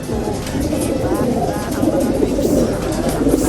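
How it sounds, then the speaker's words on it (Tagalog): Pigeons coo steadily in a loft, a dense, close, continuous layer of soft warbling calls, with a voice talking over them. "Ayan ganda ng mga kalapati natin"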